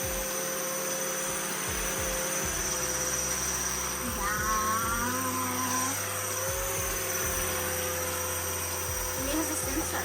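An Air Hogs Gravitor toy flyer whirs close by with a steady, motor-like hum, its pitch rising briefly partway through like a small helicopter, with faint voices in the room.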